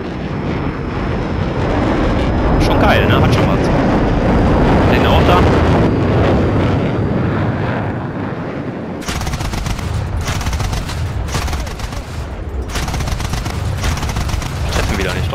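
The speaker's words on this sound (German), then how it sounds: "Also die Sounds der Jets wurden verbessert und das hört sich jetzt mal so an wie ein Jet." Jet aircraft in the video game War Thunder on PS5, a loud, broad, continuous engine roar, later broken by rapid bursts of cannon and machine-gun fire, with someone talking casually over it.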